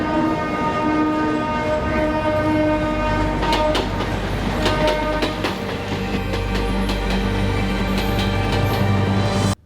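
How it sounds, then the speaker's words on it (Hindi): A train passes close by at a railway crossing, its steady loud rumble and wheel clatter running throughout, with horn-like tonal blasts and rhythmic clicks over the wheels, ending abruptly. "ट्रेन चालू हो जाएगी।"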